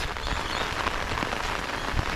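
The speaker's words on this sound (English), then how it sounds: "you can see that it's a lot of rain, no joke" Heavy rain pours steadily onto a flooded garden, a dense, even hiss of drops striking water and wet surfaces close by, with no voices.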